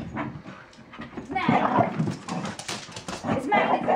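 A dog plays excitedly with a pig's ear, heard as close, lively yips, whimpers and snuffling bursts, with a person's voice mixed in.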